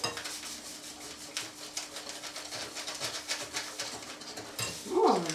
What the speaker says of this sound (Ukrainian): Тепер 200 грам нашого цукру збивай